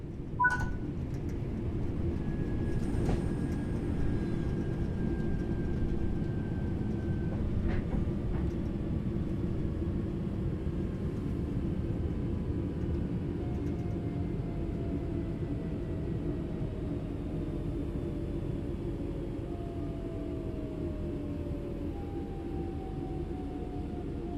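Train in a train simulator video game braking to a stop, a low continuous rumble with a sharp clank at the start and thin tones sliding downward as it slows.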